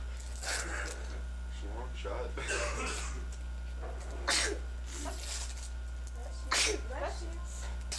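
A single sharp sneeze bursts out amid casual home conversation, with people talking before and after it over a steady low background hum.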